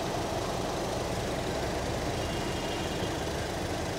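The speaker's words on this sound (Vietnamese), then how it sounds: "Cục máy nó khá là êm, nhìn cùi cùi của cổ thì rất là êm." A 2008 Daewoo Gentra car engine idles quietly, a steady, even low hum with faint broadband hiss running unchanged throughout, close by and with no voices.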